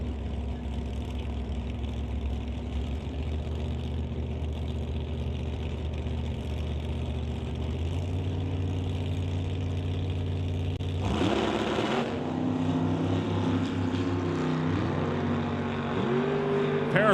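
Drag racing cars, including the Rad Torque Systems Ford Mustang, rumble steadily at idle in the lanes, then a louder engine surge rises near the end of the clip.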